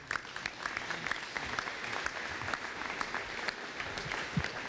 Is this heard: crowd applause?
yes